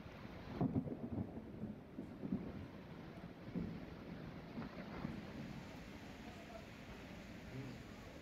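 Heavy rain pours on Girnar mountain in Gujarat as a dense, constant hiss, with a few louder rumbling bursts near the start and wind buffeting the microphone.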